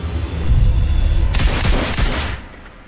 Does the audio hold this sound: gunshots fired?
yes